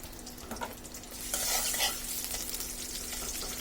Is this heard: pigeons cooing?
no